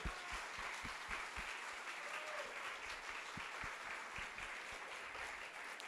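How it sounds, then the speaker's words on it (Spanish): Sustained audience clapping for a company at a sales presentation event, a fairly distant, even wash of many hands with a few sharper nearby claps scattered through. "Un fuerte aplauso para nuestra empresa"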